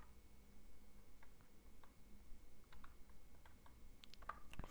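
Java code being typed on a computer keyboard, soft scattered key clicks at a low level over faint room hiss, getting busier toward the end.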